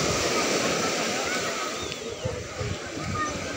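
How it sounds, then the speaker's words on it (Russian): Stormy sea surf breaks on the central beach at Kirillovka, a loud continuous wash and rumble of waves with gusty surges and no speech. "Море еще штормит"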